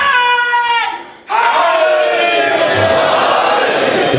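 In an imambargah, a single voice calls out a religious slogan, then after a brief pause a packed crowd answers with a loud, sustained unison chant that fills the space.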